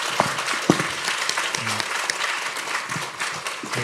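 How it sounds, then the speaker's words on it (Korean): Applause from a church congregation welcoming a missionary preacher to the front, a steady loud clapping crowd with a few sharper individual claps, no speech over it. "나오실 때 큰 박수로 환영하겠습니다."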